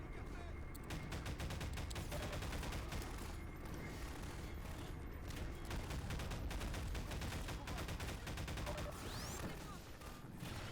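In the Half-Life 2 video game, enemies fire on the player in a dense, continuous rattle of rapid shots with occasional heavier booms throughout.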